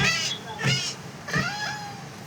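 Cat meows in the video game Minecraft, three separate mewing calls spaced across the moment, fairly loud and clear against a quiet background.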